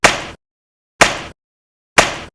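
Three layered snare drum hits made from orange samples, one at normal pitch, one pitched 14 semitones down and one 7 semitones up, each a sharp broadband crack with a short decaying tail, spaced about a second apart with silence between.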